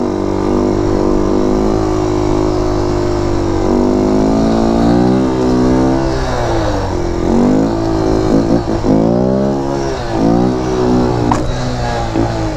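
A motorcycle engine revs hard and continuously during stunt riding practice on wheelies and scrapes, its pitch rising and falling in repeated throttle swells, loud and close throughout.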